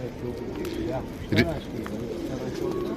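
Pigeons coo nearby in soft, low, throaty calls, with one fuller coo standing out midway over a steady background.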